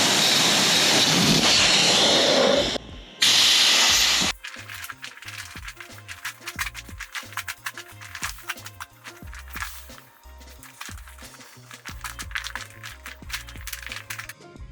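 Loud rushing hiss of air escaping from the valve of a two-person inflatable kayak, in two bursts with a short gap, then quieter rhythmic clunks and taps as the valve is worked.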